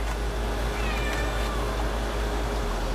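A cat meows close by in a garage during work on a 1.8T engine, its cries rising over a steady low hum and clatter of the work.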